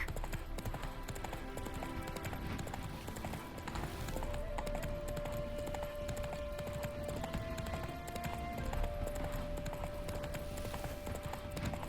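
Roach, Geralt's horse in The Witcher 3: Wild Hunt – Hearts of Stone, gallops steadily with rhythmic clip-clop hoofbeats over game music and ambience, faint and continuous.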